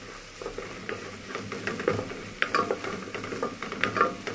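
Garlic cloves sauté in a pan with peas in tomato sauce, giving a steady, close sizzle with sharp pops and utensil scrapes that come more often toward the end.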